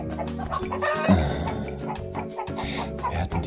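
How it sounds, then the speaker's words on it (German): A chicken clucking in a television studio, short close clucks over a busy background with music and voices. "Hier ist ein Huhn im Studio."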